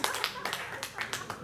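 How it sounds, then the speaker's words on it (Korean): A church congregation claps in a few loose bursts of separate, distinct hand claps, close by and moderately soft, with short gaps between the bursts. "박수 한번 주세요."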